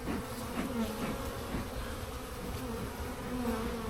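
Honeybees buzz steadily around an open hive as they go after pollen substitute, a dense, continuous close-up drone of many wings with no one speaking.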